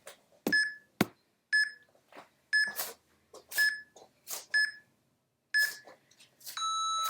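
A workout interval timer gives a series of sharp electronic beeps in a steady rhythm, roughly one per second, ending in a longer sustained tone. The beeps are close and clear, with no talking.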